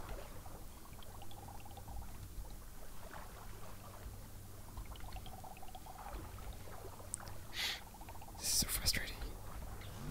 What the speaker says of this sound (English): there's so much splashing and bubbling around me